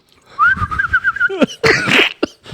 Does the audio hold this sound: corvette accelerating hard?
no